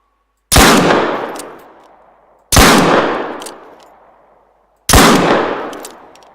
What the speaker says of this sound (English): Let's try this pistol out on this guy.